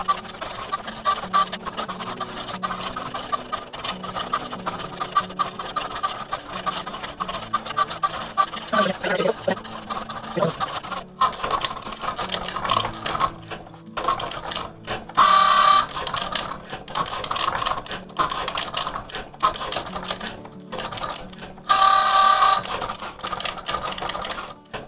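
A vinyl cutting machine slices out letters from a vinyl sheet, a steady mechanical whir and buzz with short motor runs, fairly close and continuous for the whole stretch, with no talking.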